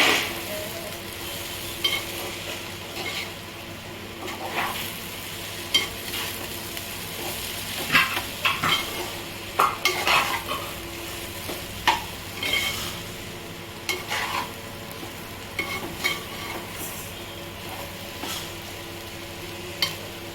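Jackfruit curry stewing in a pan, a low steady simmer broken by intermittent scraping and clinking as a spoon stirs against the metal, close and fairly quiet with no talk.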